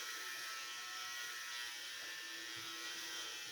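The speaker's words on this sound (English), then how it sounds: "there are some spots on your head that aren't going to shave as easy as others" A steady, fairly faint electric shaver hum runs through the whole stretch while it shaves a head.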